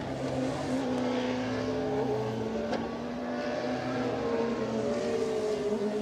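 AutoGP race cars circulating behind the safety car at the Hungaroring, a continuous engine drone with shifting pitch, moderately close and steady throughout, no speech heard.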